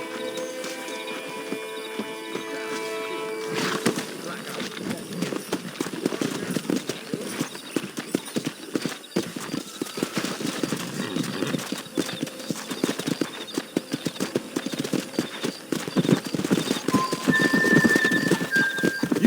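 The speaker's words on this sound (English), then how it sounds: "Let's see if we can't wrangle some horses." Horse hooves clatter steadily with occasional whinnies over a busy game soundscape in Red Dead Redemption 2, preceded by a short musical tone, fairly loud and continuous.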